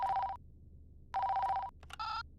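Telephone ringing in a video game, two bursts of electronic trilling bell, then a brief click and a shorter different tone, clear and moderately loud with no voices.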